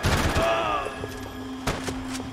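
Shotgun fire in the video game Max Payne 3, a few sharp, loud blasts over a busy game soundscape, with a faint voice briefly heard.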